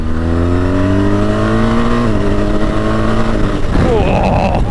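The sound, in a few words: BMW R1250GS motorcycle engine accelerating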